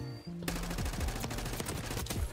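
XM4 rifle fire in Call of Duty: Black Ops 6, a rapid automatic burst of sharp, evenly spaced shots, loud and close, running almost continuously after a brief quiet start.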